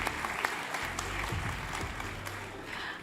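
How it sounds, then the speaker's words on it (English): Audience applause at a Toronto Tech Week startup event, a steady wash of clapping from a crowd that holds for about three seconds at moderate level, with a low hum underneath. "Another round of applause for Lucy,"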